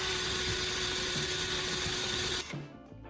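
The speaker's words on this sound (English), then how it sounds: "Then use my drill to create a small hole right on that mark." A power drill bores a small hole in the bowl of a spoon, a loud steady whine with a constant pitch that cuts off abruptly as the trigger is released, leaving a quiet tail.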